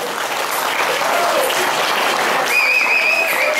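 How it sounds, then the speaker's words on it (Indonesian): Audience applause at the opening ceremony of a Muharram 1441 H celebration at an Islamic boarding school, as four religious teachers are introduced; steady, dense clapping fills the whole stretch at even loudness, with a faint electronic tone near the end. "Beri tepuk tangan yang meriah."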